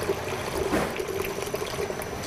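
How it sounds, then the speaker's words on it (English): Coconut water pours into a kitchen blender, a steady close trickling splash running continuously without talk. "we are going to start with about half a cup of coconut water in our blender"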